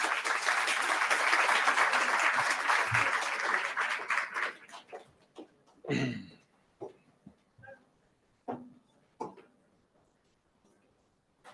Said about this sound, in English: Great applause for him.